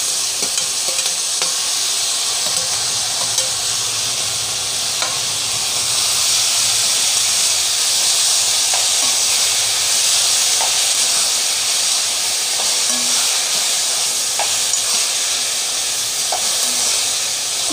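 Grated radish fries in a pan for a Kashmiri radish chutney, a steady, loud, close hiss and sizzle that runs throughout with faint stirring scrapes.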